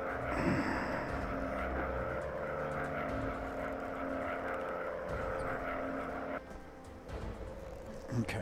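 Steady droning engine of a WW1 fighter plane in a VR flight video game, a continuous propeller hum held at even loudness, briefly dipping near the end, with a voice speaking over it.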